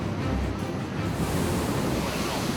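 Large ocean waves crash on a beach where people stand taking pictures, a loud, continuous roar of surf and spray with heavy wind rumble filling the whole clip.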